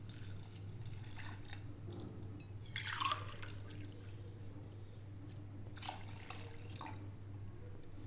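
Water for tomato dal is poured into a pressure cooker, heard as soft dripping and a short louder pour in the middle, faint over a steady low hum with no talk.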